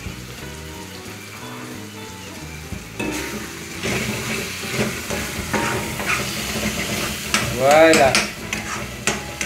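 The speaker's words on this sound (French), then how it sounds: "Mais attendez une minute, je remue d'abord." Spaghetti is stirred in a sizzling pan, with a hiss and scraping swirl that swell louder toward the end; one brief spoken word breaks in.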